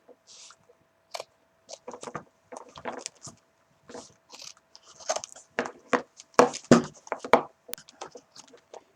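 Cheap scissors snip through the back of a plastic doll in a string of short, uneven crunching cuts with brief pauses between them, close up and fairly quiet.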